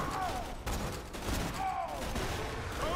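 Gunfire from a no-scope sniper headshot in the Borderlands 2 video game, a few loud dense bursts of shots under a steady game soundscape, with no talk.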